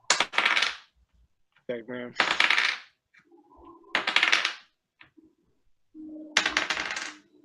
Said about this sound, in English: So many dice.